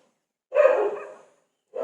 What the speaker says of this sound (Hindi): जब भी मैं वीडियो बनाने आऊँ ना इसका भौंकना तय है